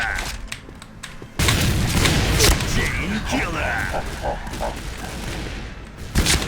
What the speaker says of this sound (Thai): ใครยิงวะ นี่หนึ่งนัด